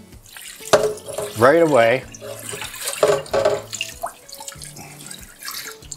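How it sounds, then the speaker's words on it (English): Tap water runs into a bowl in a home kitchen during cooking prep, a splashing stream heard close by beneath a woman's speech. "Now we'll get some water in that bowl"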